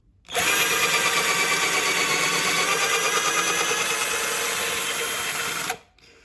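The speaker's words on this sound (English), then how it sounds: "you can just hold it down and then drill the hole" A power drill whirs at a steady high pitch for about five seconds, drilling a hole in a model railway baseboard, starting and stopping abruptly, close and loud.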